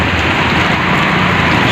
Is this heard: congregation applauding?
no